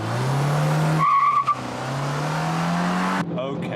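A car circling a Top Gear test track spins its wheels with loud, sustained tire squeal and a rising engine note, a brief shift break in the middle and a second squealing stretch.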